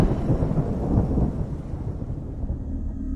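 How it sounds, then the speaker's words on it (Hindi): Loud thunder rumbles low and heavy, rolling through the whole moment and fading slightly toward the end, used as an effect in an animated Hindi horror cartoon story. "एक तेज बिजली की आवाज हुई"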